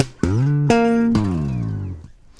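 Three slapped bass notes ring out one after another, the last sliding downward in pitch and fading, played up close and alone.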